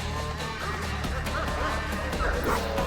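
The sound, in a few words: dogs barking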